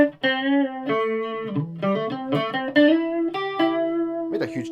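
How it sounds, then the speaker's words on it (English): A lead electric guitar line played through a chorus pedal, a run of clear sustained single notes and bends with a slight wavering doubled tone, close and prominent, without talk. "The lead guitar sound with chorus on."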